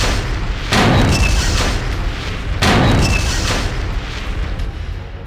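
Two heavy gunshot blasts from the Killer7 video game, each a loud booming crack about two seconds apart with a long rumbling decay, over a steady background hum.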